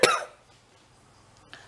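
A single cough from someone with a cold, sharp and close at the start, then fading into quiet room tone with a faint second sound near the end.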